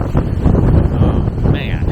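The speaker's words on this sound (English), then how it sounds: "Still got some gust coming though." Strong storm wind gusts buffet the microphone in a loud, continuous roar, rising and falling in heavy surges with rumbling low-end buffeting.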